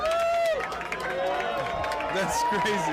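A loud crowd roars and cheers without a break, with a voice talking over the top of it.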